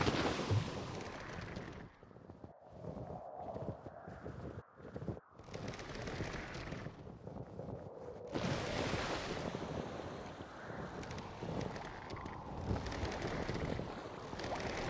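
Wind and water wash around a sailing boat in The Witcher 3, with a sail flapping in the breeze; gusty broadband rushing rises and falls, interrupted by sharp choppy breaks, with no voices.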